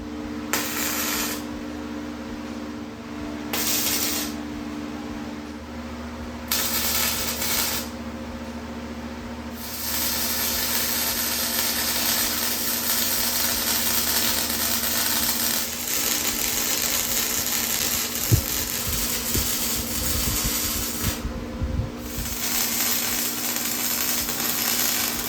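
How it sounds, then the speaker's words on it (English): Small flux core welder laying tack welds on scrap metal: bursts of crackling, spattering hiss a few seconds each, separated by short pauses, close and fairly loud, with a steady hum underneath. "I'm gonna tack all of these in with my new welder, my little flux core welder there"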